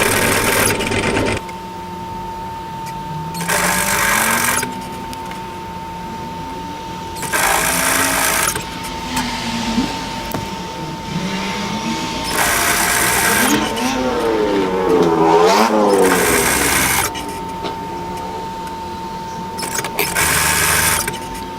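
A sewing machine fitted with a ball needle and a lengthened stitch runs over stretchy fabric for a draped midi dress, in several steady bursts of stitching separated by short pauses, with no talking.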